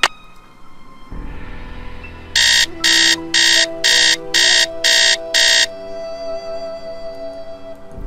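An in-game alarm clock beeps in seven short, loud, evenly spaced bursts over a low background hum and lingering tones, in a necromancer game.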